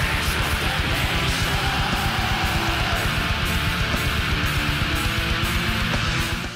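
Atmospheric black metal track, used as game music, plays as a dense, loud wall of distorted sound with steady, regular drum pulses running throughout.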